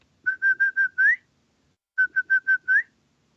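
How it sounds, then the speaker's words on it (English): Two bursts of shrill, rapid whistling call a dog, each made of five quick pulses ending in an upward slide, loud and near against silence. "It's got a very specific summoning whistle."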